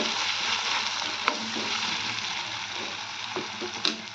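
Garlic paste sizzles steadily in a pan for upma, a dense close frying hiss with a couple of sharp spoon clicks against the metal, no voices.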